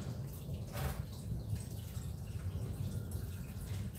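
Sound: thin oil draining from 2011 Jeep Wrangler engine

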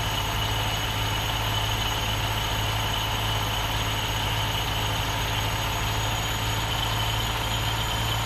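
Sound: semi truck engine idling in Farming Simulator 19 video game

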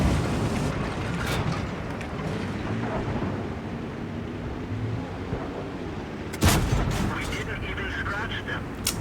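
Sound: tank cannon fire in World of Tanks video game

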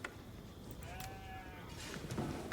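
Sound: sheep bleating in video game Age of Empires 4

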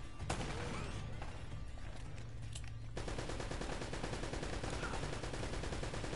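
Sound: gunshots at a barrel in the video game Uncharted

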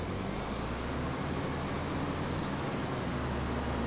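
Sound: tractor engine driving in video game Farming Simulator 22

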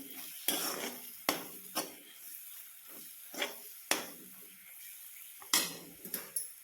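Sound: stirring and sautéing homemade masala in pan

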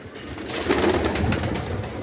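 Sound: young pigeons cooing in a pigeon loft

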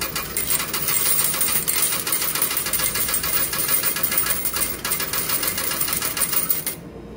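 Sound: coins dropping into a laundromat machine

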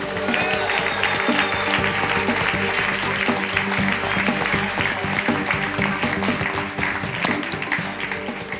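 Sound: audience applause welcoming a guest at Audi Night

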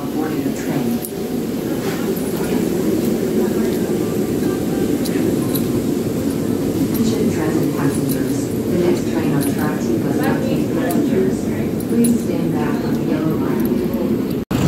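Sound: Amtrak train at the station platform

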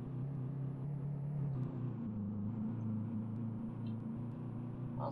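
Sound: Mercedes S65 W12 car engine running, Euro Truck Simulator 2 video game

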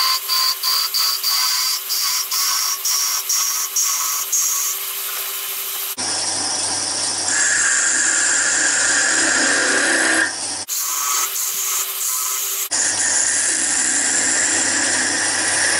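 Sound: wood lathe turning a small snowman nose

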